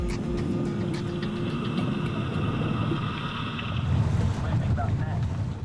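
A boat motor drones steadily while wind buffets the microphone, with water rushing beneath; the rumble swells slightly toward the end.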